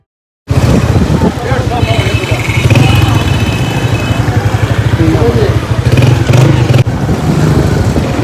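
A motorcycle engine runs close by as it is taken out for a ride to the city, a steady throbbing putter with a faint rattle over the whole stretch and no speech.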